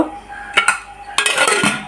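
A metal kadai is set on a kitchen stove for frying potatoes for biryani, with a couple of sharp clanks followed by a burst of clattering pot and utensil knocks, close and fairly loud.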